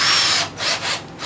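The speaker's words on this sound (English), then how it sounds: "Drill right through, open up those holes" A power drill bores through holes to open them up for well nuts during a clam cleat installation, giving a short, loud, close whirring grind in two or three bursts.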